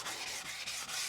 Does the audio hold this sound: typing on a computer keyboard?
no